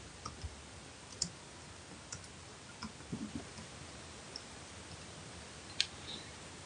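A computer mouse clicks faintly while working in AutoCAD software, a handful of isolated, crisp clicks scattered at irregular intervals over quiet room hiss.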